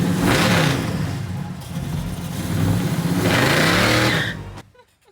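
A 1970 Chevelle SS V8 revs loudly and roughly at close range, surging twice, then abruptly cuts out as the engine stalls into near silence.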